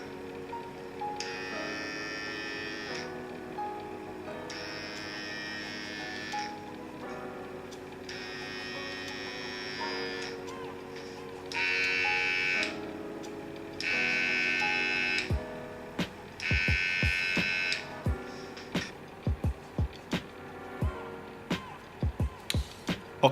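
Wahl Hero and Wahl Detailer electric hair trimmers running in turn, a close steady motor buzz with bright high whine in repeated bursts over a constant hum, then a run of sharp clicks from switching near the end.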